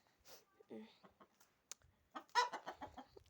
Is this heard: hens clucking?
yes